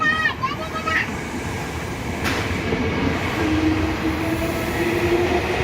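A new train rolls past at a station, a loud continuous rumble and rattle of wheels with a few squeals, while people talk nearby.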